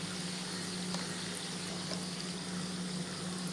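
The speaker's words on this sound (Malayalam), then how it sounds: "എണ്ണ ആവശ്യത്തിന് ചൂടായിട്ട് ബോൾസ് ഓരോന്ന് മാവിൽ മുക്കി തിരിച്ചും മറിച്ചും ഇട്ട് ഫ്രൈ ചെയ്തെടുക്കാം" Batter-dipped balls of ripe nendran banana deep-fry in hot oil, giving a steady, even sizzling hiss that runs unbroken throughout, close and alone without talk.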